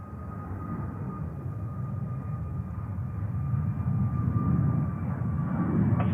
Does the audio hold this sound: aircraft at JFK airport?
yes